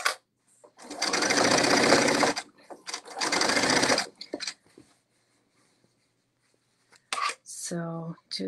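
A sewing machine stitches a hem around the bottom of a kimono robe in two steady bursts of about a second each, close and fairly loud, followed by quiet handling sounds and a brief voice.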